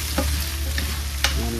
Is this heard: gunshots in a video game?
no